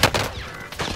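Quick burst of gunfire in Call of Duty Cold War Warzone, several sharp shots in rapid succession over about a second, fairly close and loud.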